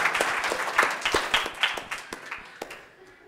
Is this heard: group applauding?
yes